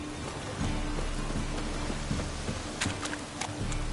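Steady rainfall in The Witcher 3, a dense continuous hiss of drops on surfaces with a low rumbling undertone and a few brighter splashes, holding at a constant level throughout.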